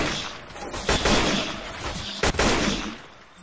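Gunfire in the video game Left 4 Dead 2 sounds as a sustained roar of automatic weapons, close and loud, with a few sharp, punchy shots standing out amid the chaotic clatter.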